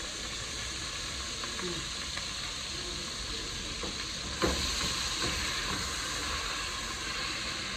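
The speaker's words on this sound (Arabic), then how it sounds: "واشوحها بقى خالص لغايه ما ايه تدبل" Onion and colored peppers sauté in a pan, a steady loud sizzle and hiss with occasional stirring clatter and a sharper scrape midway, no talking.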